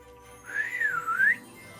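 A person whistles in imitation of Santa's whistle: one short, clear, wavering tone that rises, dips and climbs again, heard alone and fairly close.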